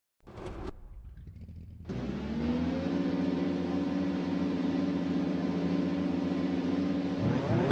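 Race car engines in an AI-driven racing game rev up together at the race start at Sportsland Sugo, a short blip followed by a sustained, steady droning roar of many engines.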